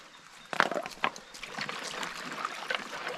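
Gold panning in a cold creek over broken bedrock: water sloshes and trickles in a pan, with a couple of sharp splashes near the start followed by steady swishing, close and fairly quiet.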